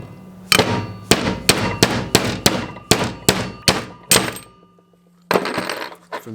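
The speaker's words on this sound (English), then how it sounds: "go get a hammer, and what you do is just nicely, make sure you don't hit the crank" A hammer knocks the governor gear off the crankshaft of a Predator 212 mini bike engine: about a dozen sharp metallic clanks in a quick, uneven series, a short pause, then a few more close blows.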